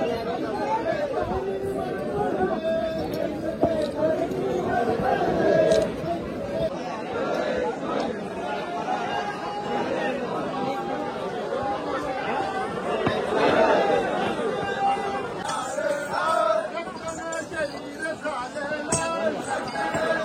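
A large crowd of trekkers chatters continuously at a samadhi site on the Gadkot Mohim fort trek, a dense babble of many nearby voices with the occasional faint clink.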